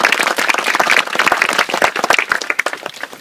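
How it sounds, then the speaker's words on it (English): Audience applause at an outdoor memorial walk at a burial park garden, dense close clapping from many hands filling the whole stretch, loud and continuous before thinning slightly at the end. "please give them a big round of applause"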